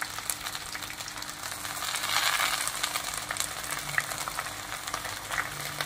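Mudakathan keerai greens wilt in a hot pan with a steady close crackling sizzle, swelling briefly as they are stirred and then settling, with no talk.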